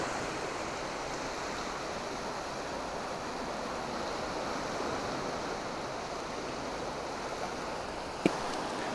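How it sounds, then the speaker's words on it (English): Surf breaking steadily at Aberffraw Bay on Anglesey, a continuous broadband wash of waves rolling in with no voices, one brief sharp click near the end. "As you can see, waves are coming in"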